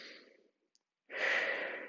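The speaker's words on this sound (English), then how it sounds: "Continue being active with your breathing." A dancer breathes out during a ballet extension exercise: a soft breathy exhale fades away, a short silence with one tiny click follows, then a stronger, louder sighing exhale.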